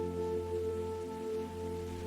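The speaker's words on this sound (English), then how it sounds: "Rain is loud, but cozy." Steady rain falls in a continuous, even wash with no break, heard close and fairly loud, with a constant low hum underneath and no voices.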